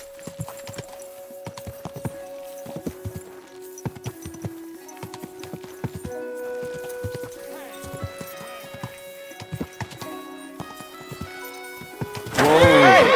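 A horse in Kingdom Come: Deliverance II walks at a steady pace, its hooves making a rhythmic clip-clop throughout. The walk ends in a sudden loud, close neigh.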